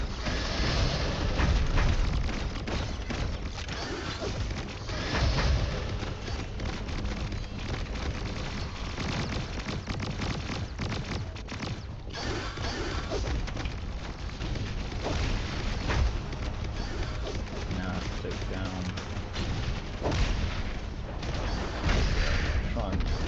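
Bombardment in the video game Xociety, a sustained barrage of heavy explosions and rumbling booms layered with mechanical clatter, loud and continuous across the whole stretch.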